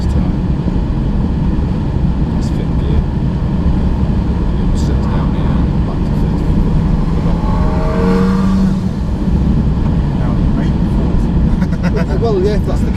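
A motorcycle holds fifth gear at high speed on the Isle of Man TT course, its engine a loud, steady drone mixed with wind rush throughout, while a voice talks over it.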